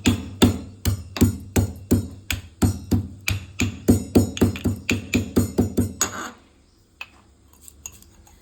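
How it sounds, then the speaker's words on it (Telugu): Garlic pounded by hand, about two dozen sharp rhythmic thuds in a steady quick beat for six seconds, close and loud, then stopping, leaving faint clinks and room quiet. "ఎల్లిపాయలు కొంచెం దంచుకోవాలి."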